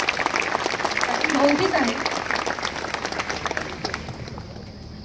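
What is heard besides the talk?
audience applause at a live concert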